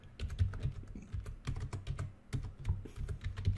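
Rapid, irregular clicking of keys on a computer keyboard, close and fairly soft, with quick bursts of keystrokes and no talking.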